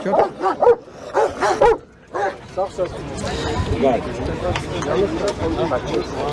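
Several dogs bark and yip in quick bursts, fairly close, with whimpering and a noisy scuffle following; people talk at moments in between.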